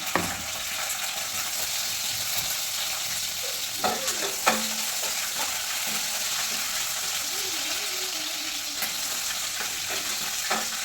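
Chopped green chillies fry in hot oil with a steady, dense sizzle, occasional sharp pops and spatters, and a few stirring scrapes in the pan, close and continuous with no talking.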